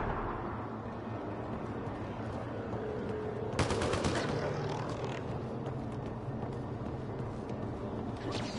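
Gunfire in the Mass Effect Andromeda video game on the planet Eos: a dense, steady wash of shots and explosions with a sharp loud burst midway, continuing as busy battle noise throughout.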